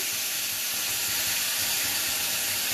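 Onions dropped into hot oil in a pan where potatoes for a fish curry were fried, giving a steady, loud, broadband sizzle and hiss that holds without a break.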